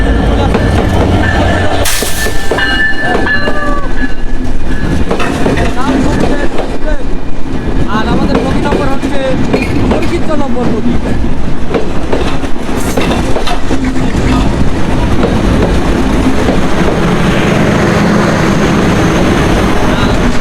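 The Benapole Express passenger train rolls through Alamdanga station in Bangladesh with a loud, continuous rumble and rhythmic rail clatter that lasts the whole time, while people talk nearby.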